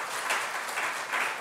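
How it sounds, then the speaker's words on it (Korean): A church congregation at a Sunday service gives a short round of encouraging applause for the worship team and musicians, a soft, even patter of many hands with no voices over it. "우리 분위기 전환을 위해서 우리 찬양단 우리 악기들 우리 격려 박수 한번 하겠습니다."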